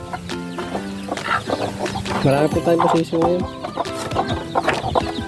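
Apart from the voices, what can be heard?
big roosters clucking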